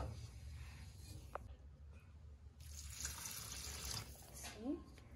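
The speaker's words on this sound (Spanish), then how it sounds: "vamos a terminar de amasar con agua de la que nos quedó donde se coció la carne" Water poured and splashing into a bowl of tamale dough in a kitchen, with faint hand kneading sounds, a brief quiet gap, then more water and handling noise.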